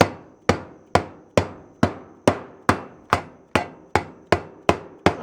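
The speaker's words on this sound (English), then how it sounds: "So I think I'm going to give it a makeover with my brand new hammer." A new hammer strikes the bent metal casing of a Technics SH-8025 graphic equalizer in steady, evenly spaced blows, about a dozen sharp, ringing knocks that decay quickly, close and loud with no talk.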